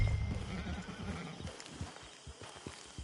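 In Red Dead Online, a horse whinnies briefly at the start, followed by a run of hoof clops on the ground, close and fairly quiet.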